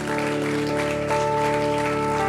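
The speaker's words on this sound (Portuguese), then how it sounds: "aplauda Jesus onde você está" A church congregation applauds during a sermon at Zion Church Lisboa, a steady wash of clapping over sustained keyboard tones that run throughout.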